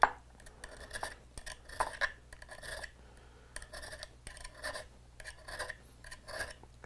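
Someone draws a hand file across a knife blade to sharpen it, giving quiet, rasping scrapes in short repeated strokes with brief pauses, close and faint, with no talking.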